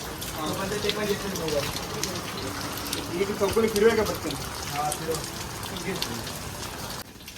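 Steady rain falls during a Ganesh immersion celebration, a constant hiss throughout, with people talking over it.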